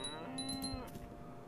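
A cow moos once in the video game Islands, a clear, drawn-out lowing call that sits alone, up close and fairly loud.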